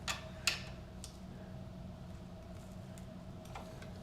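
A torque wrench clicks while bolts are tightened on a bicycle stem during an Allied Able bike build: a few faint, sharp ticks spread over several seconds, the loudest near the start, against quiet room hum.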